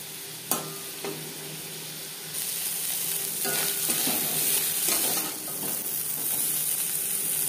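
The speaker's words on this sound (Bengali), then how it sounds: "লবণ হলুদ দিয়ে মাছ ভেজে নেব।" Steady sizzling of prawns with salt and turmeric frying in hot oil, a bright hiss with a few knocks and stirring sounds near the start.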